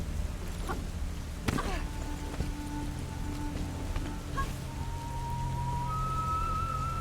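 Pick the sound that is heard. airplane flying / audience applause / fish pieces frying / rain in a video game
rain in a video game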